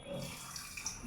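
About a glass of water is poured into a mixer jar holding cut coconut for grinding, a short, soft, close splash and trickle that lasts about a second.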